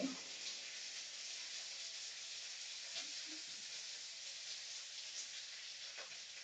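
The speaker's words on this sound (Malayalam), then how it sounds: "ഇനി നമുക്ക് കുറച്ച് നല്ലെണ്ണയും കൂടി ഇത് ഒഴിച്ചു കൊടുക്കാം" Sesame oil poured into a lemon and date pickle with garlic and ginger, giving a steady, soft, hissing sizzle that runs evenly throughout with no talking.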